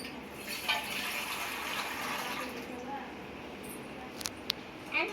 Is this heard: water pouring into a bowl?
yes